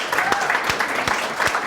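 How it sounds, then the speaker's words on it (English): Audience applause at a Startup Grind Melbourne speaker event: a short burst of crowd clapping, fairly loud and close, with a voice talking faintly over it. "we need a round of applause for that bit."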